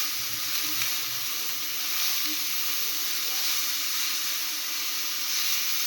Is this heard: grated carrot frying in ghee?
yes